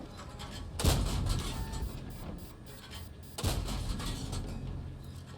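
Two heavy tank gun blasts sound in World of Tanks, about two and a half seconds apart. Each is a loud, sharp boom with a long rumbling tail, over game background noise.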